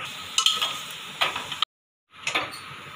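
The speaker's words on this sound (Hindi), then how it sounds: "अब इसमें डालेंगे कटा हुआ लहसुन और लहसुन को भून लेंगे।" Chopped garlic fries in a pan for methi aloo, a steady light sizzle broken by a few sharp stirring scrapes, then a brief cut to silence before the sizzling and scraping return.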